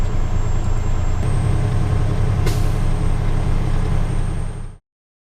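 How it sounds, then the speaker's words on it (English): A truck's air governor cuts out during a brake check, with a steady idling heavy engine rumble and a brief sharp air hiss midway, the engine continuing loudly until it stops abruptly. "make sure the air governor cuts out between 120 to 140 psi. That's when you hear the psh sound."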